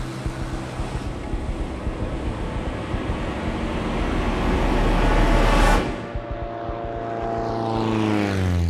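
A small propeller plane drones steadily in flight during a failed landing attempt at a darkened airstrip; the engine note swells louder, then its pitch shifts and settles into a strong harmonic hum as the aircraft passes and climbs away.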